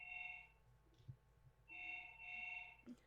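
A mobile phone rings with a bright electronic tone in two bursts separated by a short pause, with a low background hum beneath.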